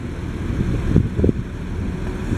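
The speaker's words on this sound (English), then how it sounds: "here comes two tour buses coming out of here now" Two tour buses rumble past at close range, a steady low engine drone swelling briefly as they go by.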